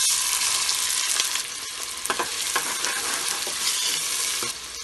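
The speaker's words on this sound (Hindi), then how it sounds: "प्याज डालेंगे," Chopped onions hitting hot oil in a pan for Punjabi-style maash daal, a steady bright sizzle with occasional stirring scrapes, close and continuous with no talk.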